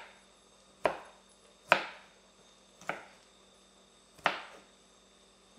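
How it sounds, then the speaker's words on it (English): Four sharp knife chops on a cutting board, spaced unevenly over a few seconds, as vegetables are cut in half in a home kitchen, each crisp strike followed by a brief ring-out with no talking. "I'm just going to cut these in half so they're a little bit smaller."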